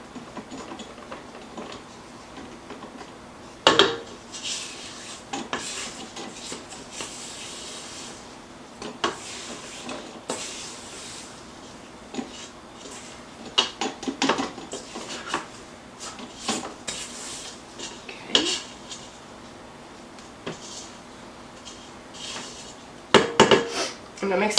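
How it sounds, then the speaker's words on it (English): Spatula scraping around a mixing bowl and beater thick with molasses cookie dough, producing scattered scrapes, taps and clinks of utensils against the bowl at close range with brief pauses between them. "I'm just going to scrape down my bowl"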